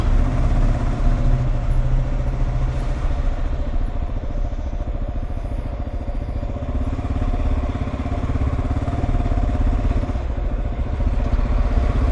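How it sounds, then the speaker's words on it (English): Cars and motorcycles sit in a traffic jam at a toll booth in Mexico, engines idling and rumbling loudly and steadily up close throughout, with no talk. "Another traffic jam for the toll booth."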